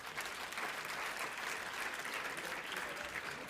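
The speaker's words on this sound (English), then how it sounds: "Big round of applause, please." A large conference audience at an EU agri-food panel session applauds the panelists, with dense, steady clapping that holds at an even level throughout, broad and continuous with no voices rising above it.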